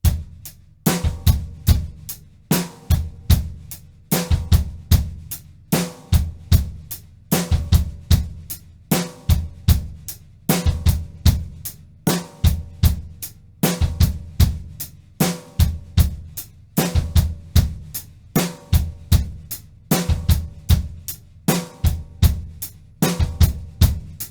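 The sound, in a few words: drumset six stroke roll pattern exercise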